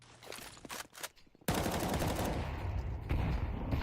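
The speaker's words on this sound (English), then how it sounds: "3 HE grenades land at his feet. Here's the bullets to eliminate" Gunfire and HE grenade blasts in an esports video game match: a few scattered shots, then a sudden loud burst of rapid firing and explosions that keeps going, with no voices.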